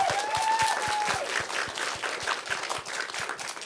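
An audience at a school panel on animation work claps in a dense round of applause, steady and moderately loud, with a brief voice trace at the start as the clapping carries on.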